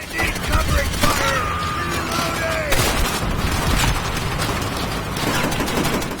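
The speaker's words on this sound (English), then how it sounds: "These guys are also luckily throwing those grenades right at my feet." Dense World at War battle: loud sustained rifle and machine-gun fire with heavy grenade explosions bursting close by, several sharp booms rising over the constant crackle, with a voice murmuring underneath.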